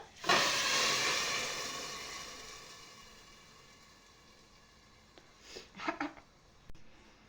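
A tadka of tempering spices with garlic hits a pan of gram greens, bursting into a loud sizzling hiss that slowly fades, followed by a few crackles and clatters as a lid goes on.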